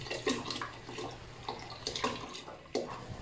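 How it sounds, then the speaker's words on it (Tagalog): A cassava starch mixture pours and splashes in uneven bursts, a few distinct gushes into boiling water over a faint steady background hum. "Isalin natin sa kumukulong tubig."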